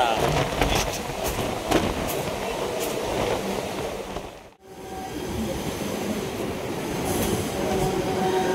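The Indore Kochuveli Express rumbles and clatters into Nalasopara station with steady wheel and carriage noise and occasional squeals, a brief dropout midway, and nearby voices talking over it.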